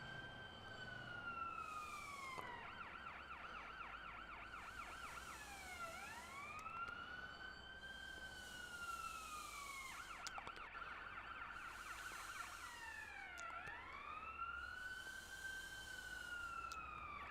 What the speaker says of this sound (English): That's the only reason I'm sticking with this siren